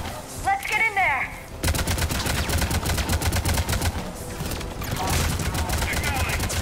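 Rapid gunfire from a firefight in the video game Mass Effect 3, dense automatic bursts rattling almost nonstop, with voices and synthetic tones around the shooting.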